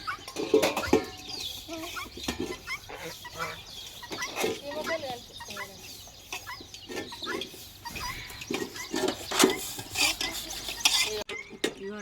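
Turkeys cluck and gobble in a busy rural yard, their calls scattered across the whole stretch amid other fowl, with people talking nearby and occasional clatter of dishes.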